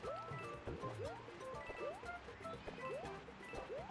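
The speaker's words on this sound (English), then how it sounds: "A nice little waterfall here." A waterfall in the video game Super Mario Maker 2 gives a soft, faint bubbling flow with repeating gurgling and dripping blips at an even rhythm, quiet and alone.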